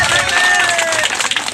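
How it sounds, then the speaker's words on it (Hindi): Audience at a World Tribal Day stage gathering clapping continuously to welcome the village panchayat head, a dense steady wash of applause with some crowd noise. "अभी हमारे बीच माना पंचायत के मुखिया जी भी आ गई हैं ताली के साथ स्वागत करेंगे"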